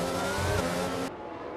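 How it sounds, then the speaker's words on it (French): Racing cars from the F1 22 game roll onto the starting grid at Monaco, a steady loud engine drone and tyre noise that drops sharply in level about two thirds through. "Les monoplaces rejoignent leur emplacement sur la grille"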